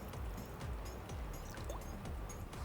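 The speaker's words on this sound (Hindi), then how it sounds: "ठीक है जी, यहाँ पर हमने इसमें अब पानी शामिल करना है।" Water poured into a cooking pot set over a flame, partway through making egg chicken pulao: a steady, close splashing trickle that continues without a break.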